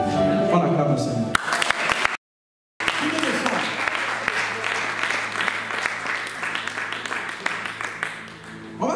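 A church congregation applauds, a dense, sustained clatter of many hands clapping with voices rising through it, briefly cut off before resuming.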